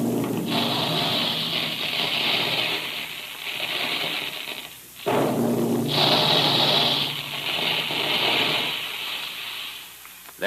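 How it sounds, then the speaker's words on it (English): Two long bursts of roaring, rushing mechanical noise with a rattling, clattering texture from special guns shooting puffed wheat and puffed rice, separated by a brief pause. "That's the sound you hear when puffed wheat and puffed rice are shot from special guns"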